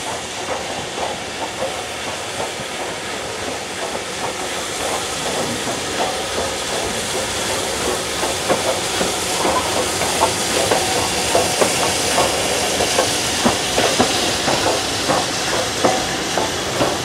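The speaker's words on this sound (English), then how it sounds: "the loco right behind me is a BR Standard Class 5 73156" BR Standard Class 5 steam locomotive 73156 on a double-track heritage railway, a steady close hiss of steam with rhythmic chuffing beats that grow more pronounced and regular as it goes.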